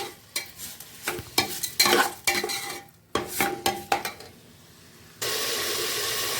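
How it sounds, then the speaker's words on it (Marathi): A spoon or spatula stirs chicken soup with salt in a metal pot, scraping and clinking in an irregular rhythm of close strokes, followed by a steady sizzling hiss. "हे चांगलं आपण एकजीव करून घेणार आहे म्हणजे एकसारखं परतवून घेणार आहे"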